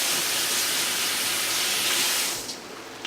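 A tablespoon of butter melts in a hot pan for garlic shrimp scampi, giving a loud, continuous, close hiss that eases and thins out near the end.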